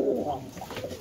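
A tumbler pigeon coos softly and repeatedly, low throaty murmurs close by, with faint background noise.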